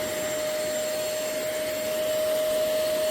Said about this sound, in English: as you can hear, it's got good suction.